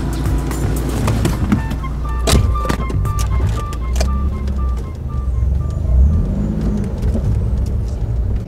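An older BMW with an M40 engine and Alpina wheels is heard from inside the cabin while driving. Engine hum and road rumble carry steadily, broken by clicks, knocks and brief tonal chimes.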